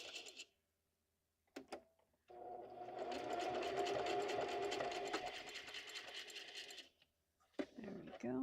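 A sewing machine stitches a junk journal in a close, steady whirring run of about four and a half seconds. Brief handling clicks and rustles come before and after it, and a voice is heard briefly at the end.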